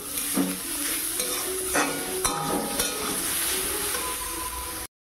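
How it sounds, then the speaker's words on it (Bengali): Fish frying in a pan, a loud continuous sizzle with hiss and occasional scraping stirs close by, no talk. "আমি মাছ ভাজতে বসে পড়লাম"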